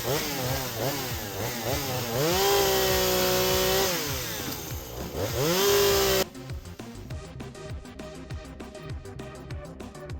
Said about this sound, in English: Get that chainsaw going again